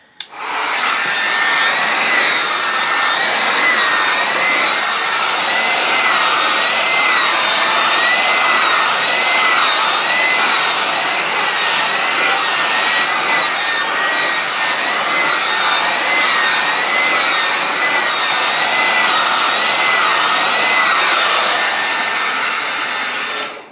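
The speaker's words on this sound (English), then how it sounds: "I am gonna do my blow dryer." A hair dryer runs steadily with a loud, continuous airy whoosh and a faint high whine, holding constant throughout.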